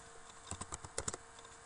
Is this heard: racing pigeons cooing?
no